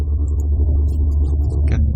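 A loud, steady low bass drone with bit crusher distortion, gritty and buzzing, with small crackly high-end artifacts and a brief brighter burst near the end, heard alone.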